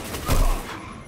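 A single loud, heavy burst of rifle fire from the Destiny 2 video game, a quick punchy blast with a short decaying tail and no talk.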